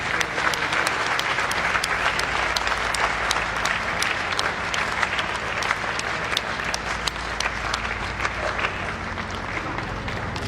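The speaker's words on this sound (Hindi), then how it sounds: "खड़े होकर रवि जी के तालियां बजाइए" A large audience at a cleaning marathon event in India gives loud, sustained applause, a dense, even roar of many hands clapping without pause, with faint voices mixed in.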